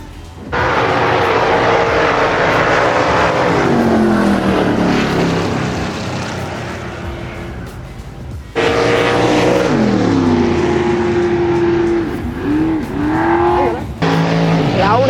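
Drag race cars at a track in Canada blast past in very loud, sustained engine roars, with two long runs of rising and falling pitch and a brief break between them.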